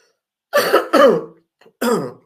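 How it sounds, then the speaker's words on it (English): A person coughs and clears their throat three times in quick succession, close and loud, with a short pause before the last. "excuse me, I have this cough"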